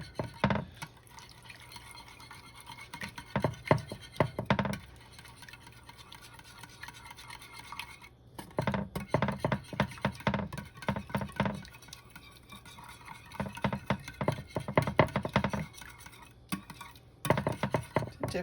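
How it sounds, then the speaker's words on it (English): A pumpkin spice mixture for French toast is whisked in a bowl, giving intermittent bursts of rapid clicking and sloshing with short pauses between rounds. "I'm just going to whisk this together"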